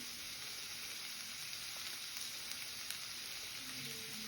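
Ginger garlic paste fries in a pan for village-style rajma chawal, a dense, continuous crackling sizzle that stays even and close throughout, with no voices.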